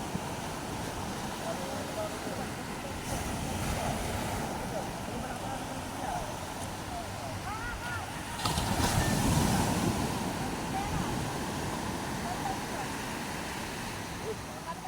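Waves wash and break amid gusting wind buffeting the microphone, with a stronger surge partway through and a voice talking faintly at times.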